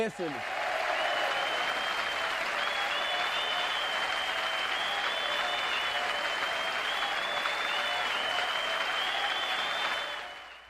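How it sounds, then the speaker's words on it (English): Sustained applause from a large crowd, steady and loud for about ten seconds, with a few whistles riding over the clapping before it fades at the end. "That's the longest applause I ever heard in my damn life."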